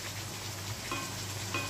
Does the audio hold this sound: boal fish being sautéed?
yes